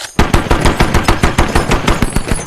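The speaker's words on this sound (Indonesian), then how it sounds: "Chris yang menembak secara membabi buta di atas Humvee pun tak luput dari tembakan dan mati seketika" Rapid machine-gun fire in a war scene from The Hurt Locker, with a loud, steady string of roughly a dozen sharp, close shots in even rhythm.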